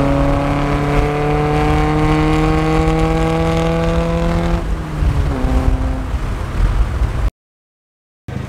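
A Nissan 240SX with blast pipe exhaust revs hard and loud, a raspy engine tone climbing steadily in pitch for several seconds before dropping off abruptly, followed by rougher, lower running and a brief cut to silence.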